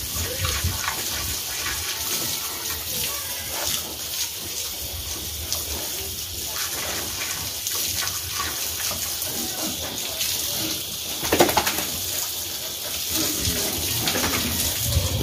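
Water pours and splashes steadily while pigs are being bathed, a continuous running gush with a brief louder splash near the end.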